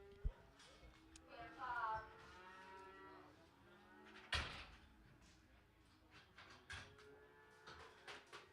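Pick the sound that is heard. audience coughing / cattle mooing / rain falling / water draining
cattle mooing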